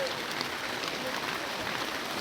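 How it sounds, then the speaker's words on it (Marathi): Rain falls steadily on a mountain trail during a May trek to Kedarnath, a dense, even hiss of drops with no breaks across the short stretch. "रस्त्यातच पाऊस चालू झालेला आहे."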